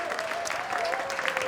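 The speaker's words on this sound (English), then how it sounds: "Give your beautiful selves a big old cheer." A live studio audience at a pub venue cheers and applauds in a short, lively burst, with whoops rising above the steady clapping and a sustained tone running underneath.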